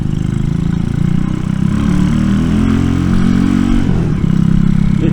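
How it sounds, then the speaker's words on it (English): RPS Racer 140 motorcycle with a new aftermarket muffler, ridden on back roads: a loud, steady engine drone with a throbbing exhaust note that rises and dips slightly as the throttle changes. "It definitely sounds real good with this new muffler on here."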